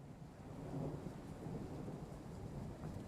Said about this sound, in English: Nice thunderstorm.